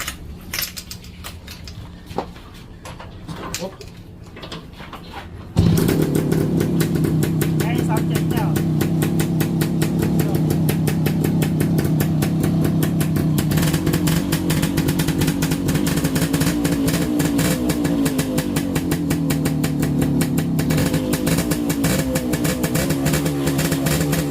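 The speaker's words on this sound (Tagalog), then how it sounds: "sobrang ingay ng tambutso niya tsaka medyo mausok. Siyempre, two-stroke to" 1990s Kawasaki two-stroke motorcycle with a noisy exhaust starting up and then idling and revving loudly and steadily at close range, after a quieter stretch with a faint voice.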